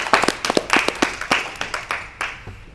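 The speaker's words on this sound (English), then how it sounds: "Let's give a round of applause for Reverend Al Warner." Scattered clapping from a small audience at a community forum, with distinct individual claps sounding close and uneven, thinning out toward the end.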